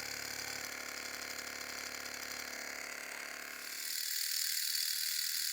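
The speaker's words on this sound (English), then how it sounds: "Alright, so that's a running Stirling engine." A small Stirling engine runs steadily with a soft, even mechanical whir and light rhythmic ticking, close by and moderately loud, its tone brightening toward the end as the engine speeds up.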